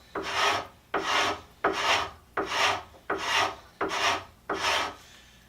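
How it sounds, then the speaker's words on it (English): A Stanley chisel blade held perpendicular and scraped across a wooden surface, making seven steady, rasping strokes in an even rhythm, each a loud close scratch followed by a short pause, with no talking. "With a Stanley chisel and holding the blade perpendicular to the surface,"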